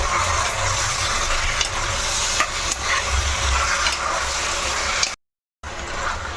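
Ginger paste is stirred in a hot cooking pan, a continuous close scraping and frying sizzle with occasional spoon knocks, briefly cut to silence near the end.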